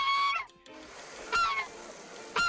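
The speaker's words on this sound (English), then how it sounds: "The most vocal of the group is Oliver the goose." A goose at an animal rescue near Tampa Bay honks loudly three times, close to the listener, with short pauses between the calls.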